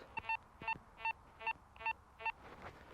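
A Nautilus metal detector gives its good-target tone: short electronic beeps repeating in a steady rhythm, six in a row, fairly faint against a soft background hiss.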